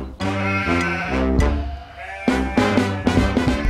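A flock of sheep bleats loudly and close by, with long wavering calls that overlap and follow one another in quick succession.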